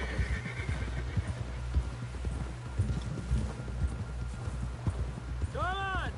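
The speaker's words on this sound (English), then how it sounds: "Someone help John down off this horse" Horse hooves clip-clopping steadily at a brisk pace in the video game Red Dead Redemption II, with a neigh near the end and speech over the top.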